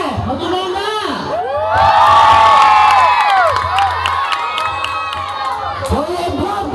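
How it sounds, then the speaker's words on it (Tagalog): A large crowd at a Fliptop rap battle event cheers, whoops and shouts loudly. The noise swells to a peak midway and then stays raucous and dense throughout. "Mario Pe! Mag-ingay na"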